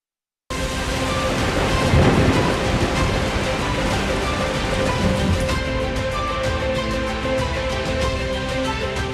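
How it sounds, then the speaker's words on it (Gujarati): Heavy monsoon rain and thunder during flooding across India: a dense, loud, continuous downpour hisses steadily, with a low rumble swelling early on and no voices. "આસામથી લઈ મહારાષ્ટ્ર સુધી વરસાદને કારણે જનજીવન ઠપ થઈ ગયું છે"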